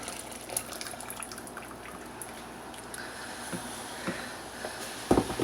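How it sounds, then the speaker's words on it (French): Hot water is poured into a bowl for homemade laundry soap, a faint, steady trickle that runs continuously, with a few small knocks toward the end. "l'eau est prête. Donc, on le verse dans le bol. Attention, c'est très chaud."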